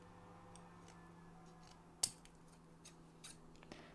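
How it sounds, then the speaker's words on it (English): Small scissors snipping pieces of pipe cleaner for a no-sew crochet mushroom keychain, a series of faint, close, crisp snips with one sharper cut standing out, in a quiet room with no talk. "I'm going to cut little pieces of pipe cleaner"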